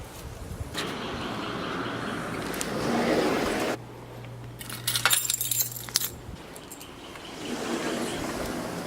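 A bunch of keys jangles and clinks near an RV, a short metallic burst in the middle over steady outdoor background noise and a low hum.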